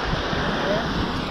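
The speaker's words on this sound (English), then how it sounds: "little waves coming through." Small waves lap near a boat on the water off Thailand, heard as a continuous close wash of surf mixed with steady wind rush, with no distinct individual splashes.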